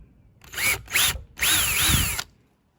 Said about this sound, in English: I'm gonna drill some little pilot holes.